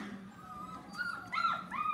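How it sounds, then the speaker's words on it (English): Schnoodle puppies whining and whimpering nearby in a string of high, wavering cries that grow louder toward the end, with no talking. "I had to get two puppies to quit whining behind me."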